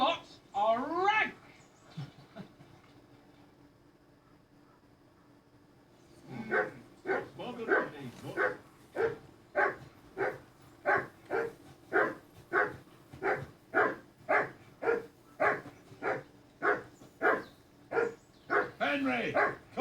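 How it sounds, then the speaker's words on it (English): A dog in Kingdom Come Deliverance 2 barks in a long, steady run of sharp, evenly spaced woofs, close and loud, after a brief opening yelp and a quiet pause. "call that dog to heel"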